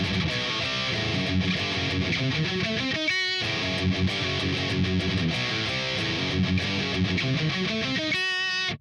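Distorted electric guitar riff, a dense, loud, driving chug of palm-muted notes and rising runs with full band backing, broken by two brief choppy breaks.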